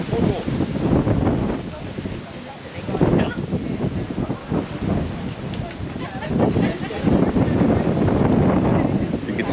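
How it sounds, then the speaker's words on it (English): Strong wind at the Cabo Girão cliff on Madeira Island roars steadily into the microphone as a loud, continuous buffeting rush. There may be faint voices within the gusts. "Oh, it's windy. It's really windy."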